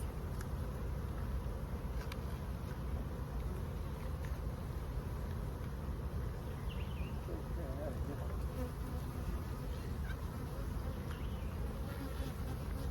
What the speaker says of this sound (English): These bees around my face is kind of weird.